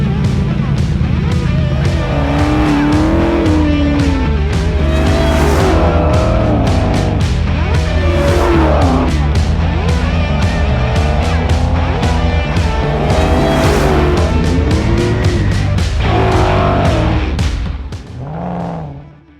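A widebody 1956 Ford F100 truck with a supercharged Coyote 5.0 V8 drives loud and close, its engine rumbling and revving steadily for nearly twenty seconds with rising and falling pitch before fading slightly at the end.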